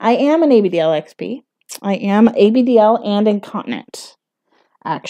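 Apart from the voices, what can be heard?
No everyday noise stands out behind the speech.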